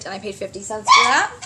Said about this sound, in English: that's my dog's barking because there's a thunderstorm